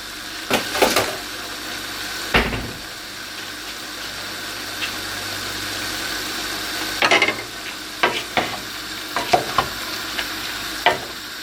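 Broccoli and pasta frying in a pan, with a steady low sizzle and occasional sharp scrapes and clatters as the mix is stirred and moved around.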